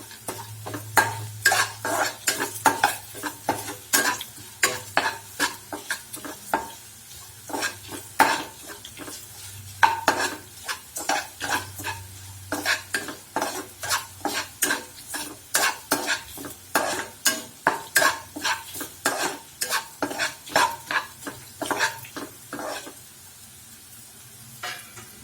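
Chilli, coriander and turmeric powders sizzle in a pan while a spoon stirs and scrapes steadily for bitter gourd rice, giving repeated sharp metallic clicks over a soft, continuous frying hiss.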